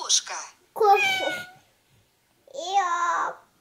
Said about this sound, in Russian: Кошка. Кошка.